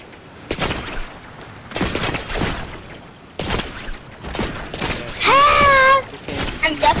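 Gunfire in a roleplay video game, a few sharp bursts scattered across the stretch with a loud ringing tone near the end, heard amid voices talking over the action.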